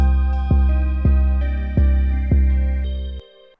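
A trap 808 bass pattern programmed in Studio One: five deep, booming sub-bass hits in a syncopated rhythm alongside a sustained synth chord, loud and upfront with no talking.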